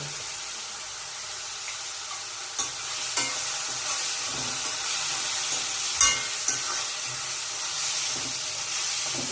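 Peanuts roasting with turmeric in a pan give a steady soft sizzle and hiss, with a few sharp stirring clinks and scrapes scattered through, close and fairly quiet, no talking.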